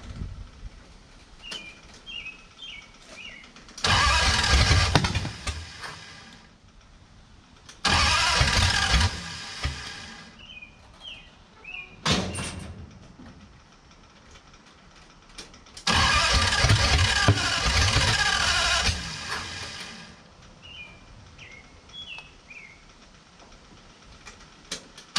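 A flathead engine in a hot rod being cranked to start, repeated in several loud bursts of a few seconds each. It sputters briefly but does not keep running, and ticking and quiet fills the pauses between tries.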